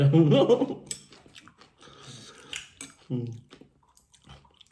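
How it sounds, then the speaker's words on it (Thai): Crunchy chewing of fried pork rinds close to the mic, crisp bites and munching in short bursts with quiet gaps between. "เน้นเสียงมากรุบกรับกรุบกรับเนี่ย"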